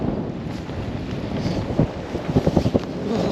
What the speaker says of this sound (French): Ça, c'est le vent frais du Québec.